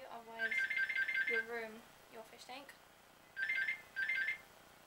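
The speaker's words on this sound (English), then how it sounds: "Please ignore that, that's the phone." A telephone rings indoors beside a home aquarium being cleaned, giving several trilling electronic bursts that alternate with a person speaking.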